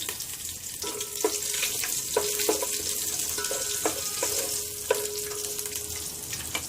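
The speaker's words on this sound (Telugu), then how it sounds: "ఇలా వేసుకున్న తర్వాత ఇలా చీలికలుగా కట్ చేసుకున్న మిరపకాయ వేసుకోవాలి" Slit green chillies frying in oil for mutton biryani: a constant bright sizzle close by, broken by several light metallic taps and clinks of a utensil against the pot.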